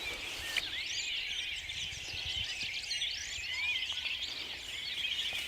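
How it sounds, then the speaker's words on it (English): Early-morning birdsong on a small farm: several birds chirping and twittering at a distance, a soft continuous chorus over a faint low outdoor rumble, no voices. "There's all sorts of bird life happening here, waking up at this time of the morning"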